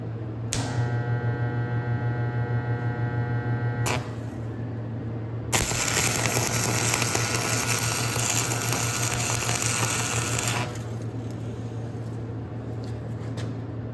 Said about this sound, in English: Got some 7018 rod. I'm gonna try to get some weld on this and see how it goes. This is cast steel